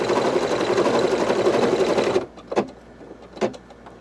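A Brother Innov'is 1600E embroidery machine stitching appliqué runs with a loud, steady whirring buzz for about two seconds, then stops, leaving a few faint clicks and room noise.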